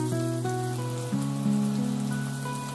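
Onions tossed into potatoes frying in a pan give a steady, hissing sizzle throughout, with sustained tonal music playing over it.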